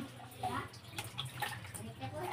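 Splashing of water poured over a child's head during a bath, in uneven bursts and trickles, with an adult speaking softly throughout.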